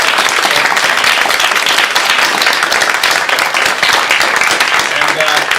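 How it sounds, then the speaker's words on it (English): A theatre audience at the final show of an opening weekend applauds in a dense, continuous wash of clapping that holds steady and loud from start to finish. "please, one last round of applause for Tim"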